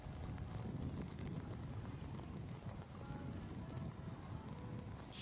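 Strong wind buffets the microphone at a rainy outdoor rugby sevens match, a loud, continuous low rumble and roar with no clear break or speech.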